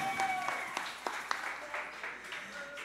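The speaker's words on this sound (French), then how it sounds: "Mes amis, on applaudit Nansan." Scattered applause for a singer at a percussion performance, a handful of sharp claps spaced out over quiet crowd murmur and a voice, fairly soft overall.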